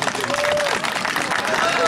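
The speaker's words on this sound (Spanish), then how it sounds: "Aplausos para la de negro." A rodeo crowd claps and calls out to vote for a contestant, with busy clapping and whoops mixed with voices and an announcer speaking over the noise.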